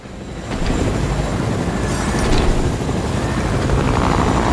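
A Fortnite video game helicopter's steady rotor roar and engine whine fill the clip continuously at close range, loud and unbroken, with no voices.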